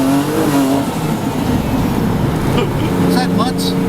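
Porsche 987 Cayman with a turbocharged 3.7L engine, revving and accelerating hard on a test drive: a loud, continuous engine roar with the pitch climbing near the end and voices heard over it.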